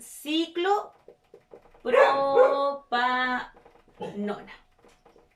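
A pet dog barks and yips several times in a row indoors, loud and close, with a person talking in between.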